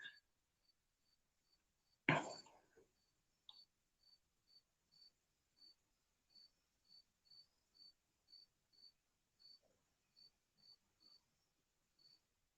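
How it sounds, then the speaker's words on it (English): A cricket chirps in steady short pulses, faint and distant, repeating about twice a second against a quiet background, with one brief louder knock near the start. "Oh, you hear cricket in the background?"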